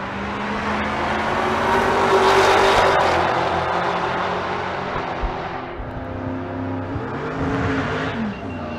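Two LT4-powered drag race cars run at Bandimere, a loud engine roar building and peaking, then trailing off as the cars pass, with crowd and track ambience underneath.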